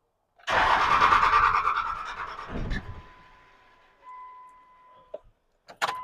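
Electric fuel pump whirring as a 1952 Ford is being started, a loud buzzing whine that starts abruptly and fades, then a faint steady hum, followed by brief clicks and knocks.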